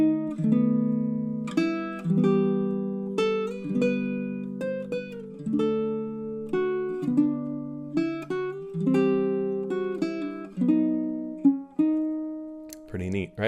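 A baritone ukulele plays a slow, plucked Greensleeves chord melody of arpeggiated chords under single melody notes. Each note rings and decays clearly in a quiet, close setting, with no speech.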